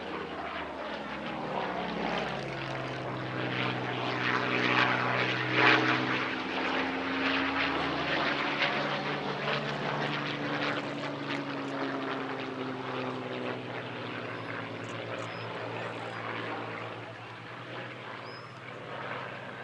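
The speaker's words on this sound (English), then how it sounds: "In this display we see Spitfire Mk./C EE602 from Fighter Aviation Engineering" Supermarine Spitfire Mk. V propeller fighter flying a display at a Shuttleworth airshow, its piston engine droning steadily and loudly overhead for the whole stretch, pitch sliding as it passes and recedes.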